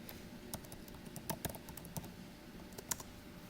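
Shell command typed on a computer keyboard, a quiet run of irregular key taps with a few sharper strikes, close and alone with no talking.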